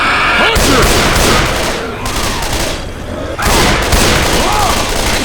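Gunfire in the zombie shooter Left 4 Dead 2 bursts out in heavy, rapid volleys at close range, loud cracking shots packed together, with a voice heard partway through and a brief lull before the firing resumes.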